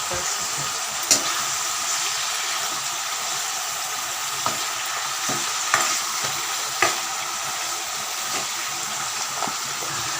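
Steady sizzling of spices frying in a pan, with occasional light clicks of stirring over the constant hiss.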